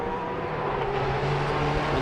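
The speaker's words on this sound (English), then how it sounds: "And two Porsches together once again, and number 92 is going to lap number 7." Porsche race cars run on a circuit during a Baltic touring car championship round in Riga, heard as a steady, fairly loud engine drone with a sustained mid tone and no pause.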